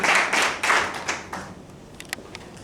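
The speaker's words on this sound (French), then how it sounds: "Des acclamations pour Aude." Wedding guests at a civil marriage ceremony clap for the bride, a short burst of close, irregular hand claps that fades out into a few scattered taps.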